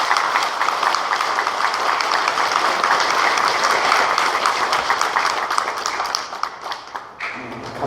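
A congregation at a Mass applauds the monks with dense, sustained clapping that fills the room, then thins out and fades near the end.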